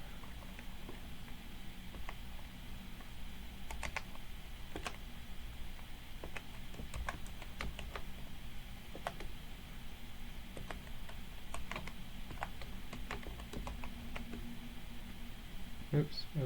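Keys tapped on a computer keyboard while a username and password are entered, a scattered run of faint clicks over steady background hum with quiet talk around them.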